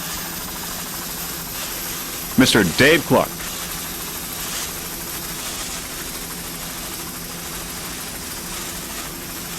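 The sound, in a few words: helicopter flying over sailboat race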